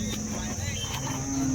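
Jersey cows at the Baramati cattle market give a faint, brief low moo that swells near the end over a murmuring market background.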